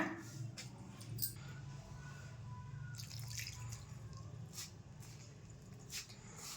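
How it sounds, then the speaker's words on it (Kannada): Small splashes and drips of water added to tandoori roti dough in a bowl, soft and close, with faint trickles scattered across a quiet background. "ಈಗ ಸ್ವಲ್ಪ ನೀರನ್ನು ಸೇರಿಸ್ಕೊಳ್ಳೋಣ"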